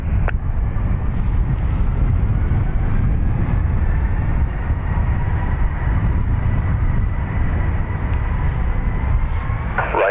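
Aegean airliner taking off from Dublin Airport runway 10 right, a steady, loud, broad jet engine roar holding constant throughout.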